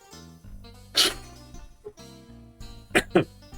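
A person sneezes once, sharp and close, then coughs or sneezes twice in quick succession near the end, between quiet stretches with a soft voice.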